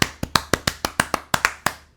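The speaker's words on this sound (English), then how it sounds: "Round of applause for my brother Christian." A single pair of hands claps about eleven times in a loose, uneven rhythm, crisp and close, each clap sharp and isolated against near silence.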